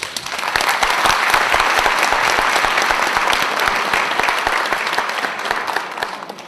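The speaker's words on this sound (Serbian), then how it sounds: "izmamila je gromki aplauz publike" A school audience at a 50th-anniversary celebration breaks into loud, sustained applause after a speech. Dense clapping comes from many hands, stays strong throughout and eases slightly toward the end.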